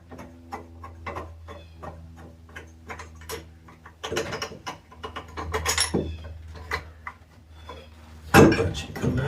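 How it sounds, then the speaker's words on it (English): A bolt is unscrewed from the smog pump on a 1983 Camaro Z28 with a small-block 350, giving a steady run of quick ratcheting clicks and metallic taps close by, with occasional louder clanks near the end. "Finish unscrewing our bolt."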